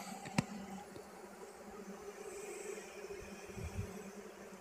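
Honey bees hum inside an opened beehive full of pollen and honey, a low, steady drone that stays faint, broken by a sharp click near the start.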